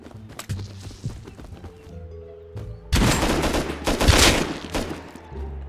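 Rapid gunfire bursts and sharp shots in the video game Rust, quieter scattered pops first, then a loud dense volley near the end.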